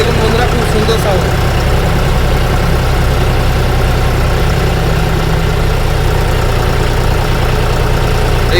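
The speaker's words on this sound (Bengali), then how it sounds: "যে গাড়ি জন ডিয়ার 5210 গাড়ি, 55 গিয়ার বক্স আর 50-50D টার্বো চার্জার ইঞ্জিন আছে ওই গাড়িতে।" A John Deere 5210 tractor with a turbocharged engine idles in a steady, close, continuous low rumble with a faint knocking rhythm, running alone without interruption.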